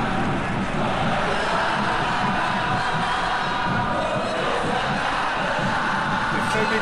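A large football crowd roars continuously at a stadium during an Indonesian Liga 1 match between Persis Solo and Persebaya, a dense, loud, sustained wash of cheering and shouting.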